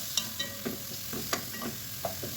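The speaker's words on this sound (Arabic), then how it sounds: "راح أقلب فيها البصل وأحط الدجاج وأقلبه" Onion and chicken being stirred in a little olive oil, with a steady frying hiss and sharp intermittent scrapes and clinks of the spoon against the pan.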